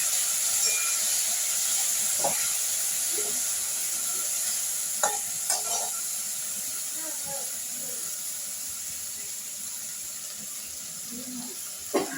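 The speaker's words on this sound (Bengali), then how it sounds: "এবার আমি সর্ষে বাটাটা ঢেলে দিলাম।" Mustard paste sizzling in a hot pan, a loud steady hiss close by that slowly fades, with a few faint clinks and scrapes.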